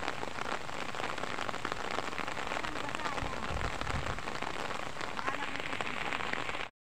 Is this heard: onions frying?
no